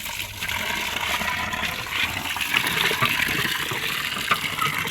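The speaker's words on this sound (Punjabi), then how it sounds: "ਹੁਣ ਜਿਹੜੀ ਇੱਥੇ ਟੂਟੀ ਲਵਾ ਲਈ ਆਪਾਂ ਨੇ" Water gushing steadily from a newly installed tap in a village home, a continuous loud splashing rush with no talk over it.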